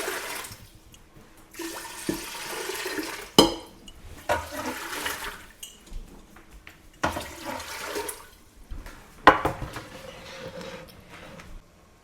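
Hot water poured into Nesco electric pressure canners fitted with canning racks, two quarts each, in bursts of splashing pours with pauses between, near and moderately loud with no talk.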